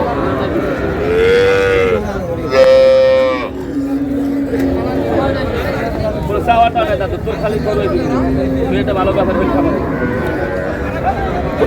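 At a crowded cattle market, cows and calves let out loud, drawn-out moos, a few strong calls early and fainter ones later, all over steady background chatter and talking.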